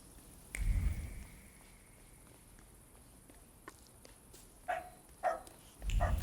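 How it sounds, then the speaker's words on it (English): A dog outside in a garden gives a few short, muffled barks spaced apart. They are faint and distant against a quiet background, with a soft thump early on. "Apologies for the dog. He's standing in the garden shouting at the moment."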